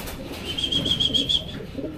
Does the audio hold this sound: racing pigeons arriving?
yes